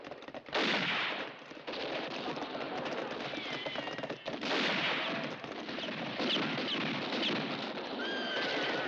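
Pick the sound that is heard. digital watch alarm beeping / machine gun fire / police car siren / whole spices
machine gun fire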